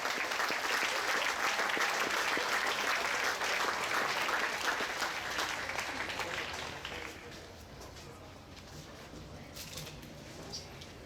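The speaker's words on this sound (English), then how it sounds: "give her a round of applause" A crowd applauds at the Minnesota State Fair FFA Supreme Champion awards, with steady, full clapping for about seven seconds that then thins into a few scattered claps and quiet room noise.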